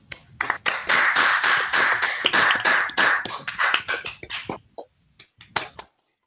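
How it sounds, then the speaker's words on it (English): Online audience members clap after a mathematics lecture, with several unmuted participants' claps overlapping into uneven bursts that thin out into a few scattered claps before falling silent. "give Richard a round of applause"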